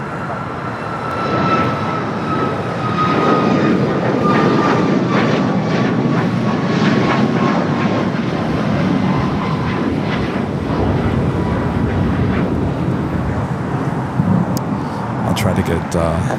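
A jet airliner takes off from runway 25 Left at Los Angeles International Airport, a loud sustained engine roar with a faint whine that holds steady throughout, alone without talk.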